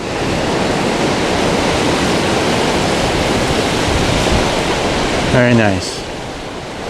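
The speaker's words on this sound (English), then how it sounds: "it is windy all the time" Strong, steady wind roaring over crashing surf at a national seashore beach on Padre Island, a dense continuous broadband rush throughout, with a brief spoken comment near the end.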